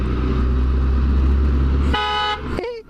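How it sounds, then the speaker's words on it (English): A BMW K1600 GTL motorcycle horn blasts once loud and close, a sustained harmonic honk lasting under half a second, followed by a short lower tone, after steady low engine rumble. "This one, it's like a truck horn."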